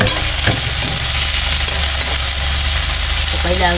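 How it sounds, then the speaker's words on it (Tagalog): Tomatoes cooking down in a pan for sarciado give a loud continuous close sizzle with occasional stirring scrapes, under a low steady hum. "So, lutuin natin maigi itong ating kamatis."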